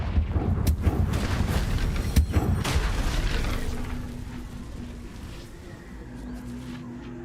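Confringo blasting spell in Hogwarts Legacy, heavy booming explosions in a quick cluster of sharp hits, loud and near, then a rumbling tail that fades into a low hum.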